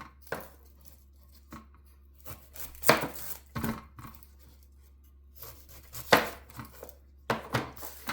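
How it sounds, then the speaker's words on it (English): A knife dicing an onion on a cutting board while prepping beef stew: sparse, irregular chops, some single and some in quick pairs, close and crisp against a quiet room. "just real easy dicing of an onion here"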